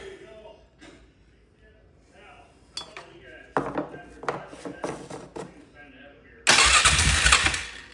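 A Polaris Magnum 500 ATV engine cranks in short bursts, then catches and roars loudly near the end; someone speaks over the cranking and there is some clinking in the background.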